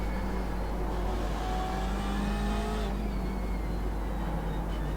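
A BMW M8 race car in the iRacing sim at Silverstone brakes hard and downshifts into second, its engine a steady, loud drone with shifting harmonic pitch that drops and settles throughout.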